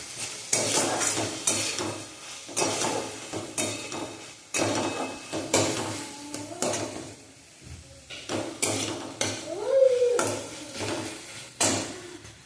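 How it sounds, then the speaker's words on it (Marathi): Spicy vermicelli with finely chopped coriander being stirred in a pan, with repeated scraping strokes of a spoon against the pan in a steady rhythm over a light sizzle, close and fairly loud, with short pauses between bursts. "बारीक चिरलेली कोथिंबीर टाकल्यानंतर आपण अशा प्रकारे हलवून घेणार आहोत"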